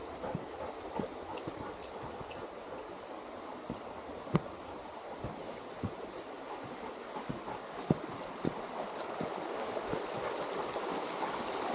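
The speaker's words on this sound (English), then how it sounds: "so the water's flowing, but it's not too bad" A small stream swollen by recent rain flows steadily along a wooded trail, a constant broadband rush close by with scattered clicks and splashes throughout.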